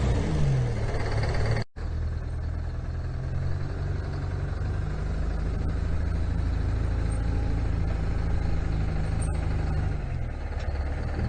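A Ford truck, the Screaming Ford from Ice Road Truckers, with fuel problems, runs and pulls forward, its deep engine rumble steady and loud throughout with a faint whine, no talk.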